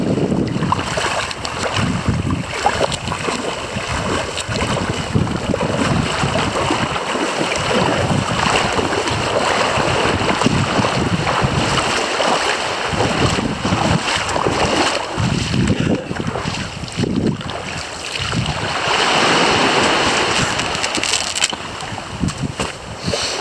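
Waves of an incoming tide wash against the shore in a continuous rushing, hissing surge, loud and close, mixed with gusty wind buffeting the microphone.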